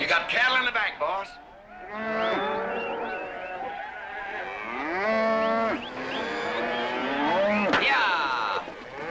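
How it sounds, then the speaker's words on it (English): Cattle in the back of a vehicle in a 1963 western, bellowing in long, overlapping moos that continue almost without a break, loud and close. "You got cattle in the back, boss."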